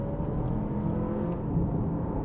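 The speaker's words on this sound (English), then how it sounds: "I got a nice bit of acceleration" A Honda ZR-V with an eCVT accelerates on the road, giving a steady low engine and road rumble heard from inside the cabin, continuous and moderately loud with no talking.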